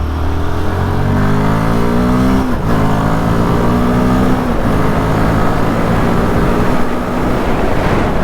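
A 2025 Royal Enfield Guerrilla 450 motorcycle engine revs hard and accelerates through the gears, its pitch climbing, dropping at each shift, then climbing again. Loud and close, with no talking.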